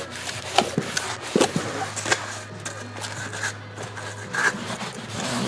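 Rubbing and wiping on new rear brake parts for a 2007 Scion tC, cleaning off storage oil with brake cleaner, scattered close scrapes and swipes over a steady low hum.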